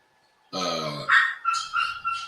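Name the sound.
dog barking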